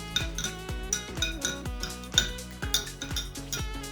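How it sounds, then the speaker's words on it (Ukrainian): A spoon clinks rhythmically against the sides of a glass jar, a quick repeated stirring of bright metallic taps while dissolving paraffin. "Я візьму ложку і перемішаю до повного,"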